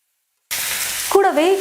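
Onions and boiled vegetables frying in a pan for vegetable idli, a sudden close hiss of sizzling that starts after silence, with a brief squeaky scrape of stirring near the end.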